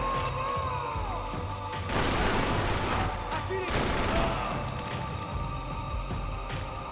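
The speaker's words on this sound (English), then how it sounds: "I heard more rounds pop off." Heavy gunfire in the action game Max Payne 3, dense crackling volleys swelling in two loud bursts over a constant background din.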